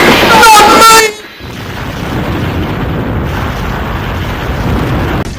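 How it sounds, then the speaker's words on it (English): A loud horn-like blare cuts off into a deep, rolling explosion rumble at Andy Diesel's shed on the island of Sodor, the roar lingering steadily for several seconds. "The explosion obliterated a significant part of the island of Sodor."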